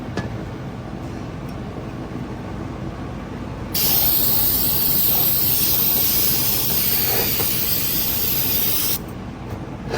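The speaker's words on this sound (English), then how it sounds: "I'm gonna spray this off of there." Aerosol cleaner sprayed onto a 2018 Chevrolet Camaro transmission part during a rebuild, one long loud close hissing burst of about five seconds over low shop background noise.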